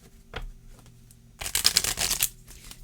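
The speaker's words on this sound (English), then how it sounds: "I'm going to shuffle just like 3 more times here." A Universal Fantasy Tarot deck gives one light tap, then a quick riffle shuffle of the cards, crisp and close, lasting about a second. No talk is heard.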